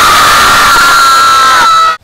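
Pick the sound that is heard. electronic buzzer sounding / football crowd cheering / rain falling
football crowd cheering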